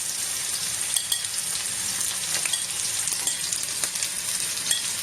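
Cassava (mogo) pieces sauté over medium heat in a pan, giving a steady, dense sizzle with scattered crackles and occasional scrape-like pops throughout, close and continuous with no voices.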